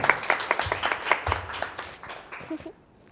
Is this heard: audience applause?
yes